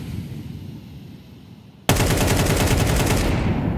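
Gunfire in a professional Counter-Strike match on the Vertigo map erupts abruptly after a quiet stretch: loud, sustained rapid automatic bursts that carry on to the end.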